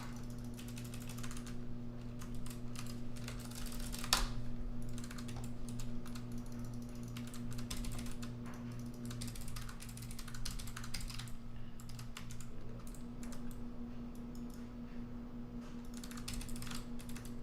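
Rapid, steady typing on a computer keyboard during a StarCraft II session, with dense clacking keystrokes running continuously at moderate loudness and no talk.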